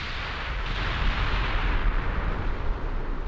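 Sustained heavy naval gunfire from battleships in the game Ultimate Admiral Dreadnoughts, a deep rumbling roar of overlapping booming salvos that rolls on continuously without speech.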